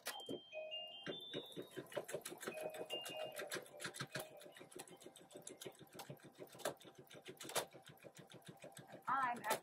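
A PFAFF embroidery machine stitches with a rapid, regular needle clatter, close and continuous, while a person talks over it and some beeps sound near the start.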